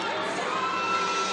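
Gymnastics teammates cheering on the sidelines at an Alabama versus Boise State college meet, a continuous loud chorus of voices shouting and whooping together for a short stretch.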